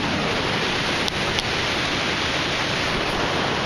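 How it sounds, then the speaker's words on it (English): A big Brazilian waterfall at Pirenópolis roars as a steady, dense, broadband wash of falling water, loud and close with no breaks, apart from two faint clicks early on. "we made it out to one of the big waterfalls, the Cachoeiras"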